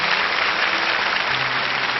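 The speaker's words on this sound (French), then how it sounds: "On applaudit très fort les trois candidats" A game show studio audience applauds the three contestants, dense steady clapping heard alone for a couple of seconds at full volume.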